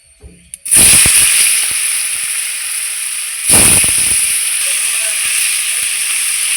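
Loud, sudden sizzling as paneer drops into hot oil with turmeric, with a second sharp burst of hissing midway, then steady frying crackle.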